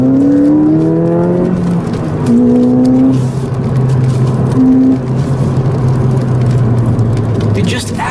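A 2016 Ford Fiesta ST driven hard on bumpy back roads, its engine note climbing and shifting through gears up close, with steady road and wind roar underneath and a voice talking over it.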